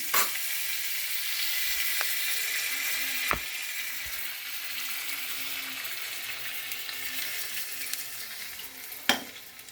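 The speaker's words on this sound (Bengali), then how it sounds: "লঙ্কা ফোড়ন দিয়ে দিলাম, একটু বাটার দিয়ে দিলাম" Dried red chili tempering sizzles softly in butter for paneer butter masala, a quiet continuous crackle broken by a few sharp clicks and taps from a utensil. No one speaks.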